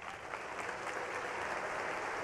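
Commencement audience at a College of Education and Human Sciences ceremony applauding graduating students: a continuous, even wash of many hands clapping, sustained at moderate level with no talk.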